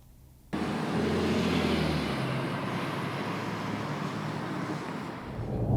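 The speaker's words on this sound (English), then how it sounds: "And now we're driving along in this new E-Class facelift" A facelifted 2020 Mercedes E-Class prototype driving along, its steady engine and road rumble filling the cabin with a broad, constant hiss after a sudden start, no talk over it.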